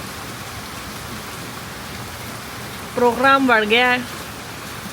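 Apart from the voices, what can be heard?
heavy rain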